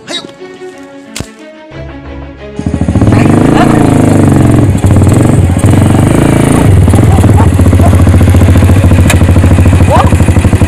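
A motorcycle engine starts up nearby after a quiet opening and then runs loud and steady at a strong idle and rev, with people talking over it from time to time.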